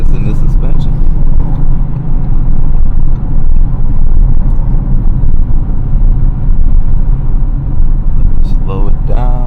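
2022 Audi RS7 driving on the road with a loud, heavy engine rumble and road noise that swells under acceleration, with voices talking over it at the start and end.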